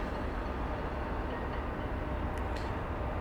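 A train runs on tracks in an area under a rail line, heard as a steady, dense rumble and rush filling the scene, with faint ticks near the end and no voices.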